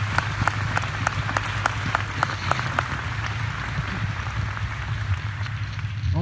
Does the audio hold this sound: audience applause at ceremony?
yes